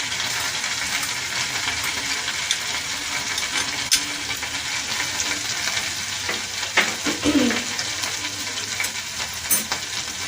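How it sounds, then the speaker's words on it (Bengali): Chopped garlic, four or five pieces, sizzles and crackles steadily in hot oil in a pan, a close continuous frying hiss with a few small pops and no talking. "তেলটি গরম হয়ে গেছে, এর মধ্যে আমি এখানে 4-5টি রসুন রেখেছি, সেই রসুন কুচিটা এর মধ্যে দিয়ে দেব"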